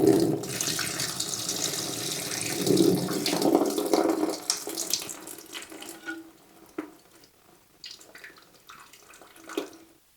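Water rushes and gurgles loudly out of a toilet tank as the fill valve is lifted, then tapers to quieter trickles and scattered drips.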